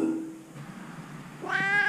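A cat meows once near the end, a clear, fairly close cry after a stretch of quiet outdoor background on a countryside walking route.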